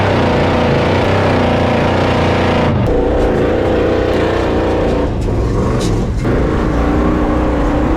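A 1978 Ford F-350 truck doing a donut, its engine roaring loud and continuous with surging revs and tire noise close up.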